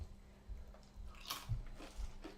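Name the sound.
loud crunchy chewing of food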